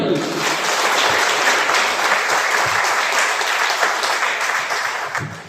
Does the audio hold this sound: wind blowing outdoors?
no